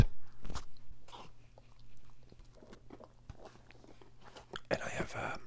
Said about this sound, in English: This is the final bite